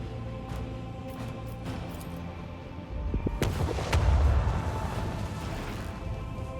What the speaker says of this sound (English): Unleash the storm of macro cannons.